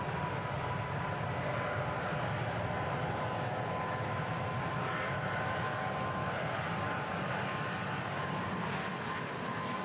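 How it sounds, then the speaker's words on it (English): An airliner in an air traffic controller simulation game builds to a steady jet-engine roar during its takeoff roll, a broad, loud, continuous rush with no talking over it. "You can actually watch your airplane take off here."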